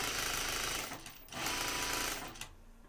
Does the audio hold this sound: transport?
no